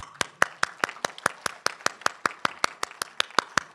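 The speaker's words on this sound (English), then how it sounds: "The round of applause for everyone here." At a conference panel, clear, evenly spaced hand claps ring out, about sixteen sharp beats in steady rhythm, close and distinct rather than a dense crowd wash.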